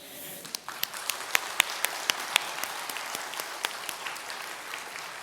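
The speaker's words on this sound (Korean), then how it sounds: "그 하나님께 영광의 박수를 올려드립니다." A church congregation claps together, with scattered sharp individual claps standing out over a steady wash of applause that slowly thins out.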